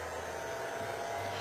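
A hair dryer runs steadily at close range, giving a quick blast of drying to a piece before it is bevelled, with a continuous even whir and no talk.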